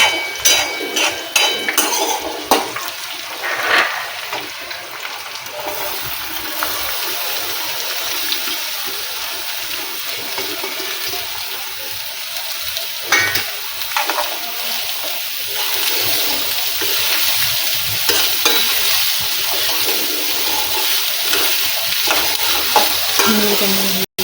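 Garlic and green chillies sautéing in a pan as onions go in for papad-onion-tomato shaak, a continuous close sizzle with scraping stirs and clinks that grows fuller and louder toward the end.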